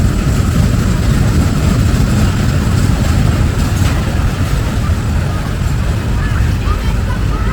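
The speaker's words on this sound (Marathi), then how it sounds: "ही एक ट्रेन है" A mini train ride at a fair ground runs with a dense, continuous rumble and roar that stays loud and steady throughout, masking any other sounds.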